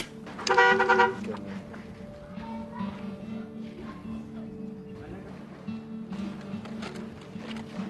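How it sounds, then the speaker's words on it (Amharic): A short car horn toot sounds near the start, followed by a steady low hum with faint voices in the background. "ክላክስ አድርግለት እሺ"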